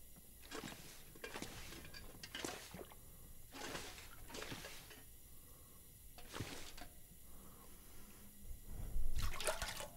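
Water sloshes and splashes in short bursts as toilet water is collected in The Long Dark video game, a series of quiet watery gurgles ending in a louder pour.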